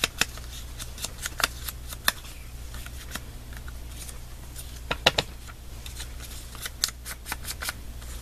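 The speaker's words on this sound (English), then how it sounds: "Scissors." Scissors snip through paper while recycled envelope pockets are made, giving sparse, sharp clicks and short cuts at close range. The snips come irregularly, sometimes in quick pairs, over a quiet room, with no talking.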